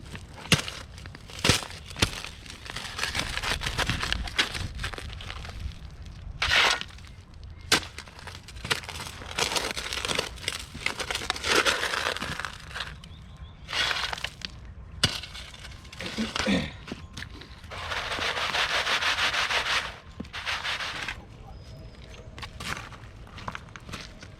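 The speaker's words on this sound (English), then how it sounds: "I'm gonna start digging some pay" A shovel digs wet, gold-bearing gravel and sand into a bucket fitted with a quarter-inch classifier, making repeated close, gritty crunches and scrapes in an irregular rhythm.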